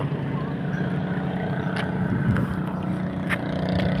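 A Filipino bangka motorboat engine drones steadily nearby over water, with wind and a few faint background sounds mixed in.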